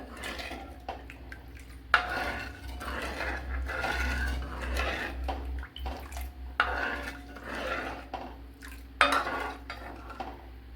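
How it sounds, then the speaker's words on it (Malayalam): A spoon scrapes and clinks against a metal pot while ragi and semolina batter is stirred, with repeated sharp knocks and wet sloshing swirls at an irregular rhythm, close up and without talk. "ഇനി നല്ലതുപോലെ ഒന്ന് കലക്കി കൊടുക്കുക. റവ മാവൊക്കെ എല്ലായിടും ഒന്ന് കലങ്ങി വരണം നല്ലതുപോലെ."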